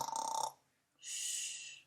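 A human voice imitates snoring with two drawn-out breaths, a low rumbling inhale followed by a hissy, airy exhale, close and fairly quiet.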